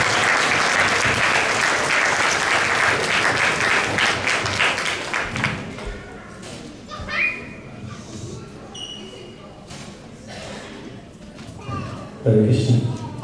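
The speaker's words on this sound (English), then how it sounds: "let me hear a huge round of applause for them." Loud audience applause at a 70th Vyasa Puja celebration in Toronto, dense clapping for about six seconds that thins into scattered claps and crowd murmur, with a few louder claps near the end.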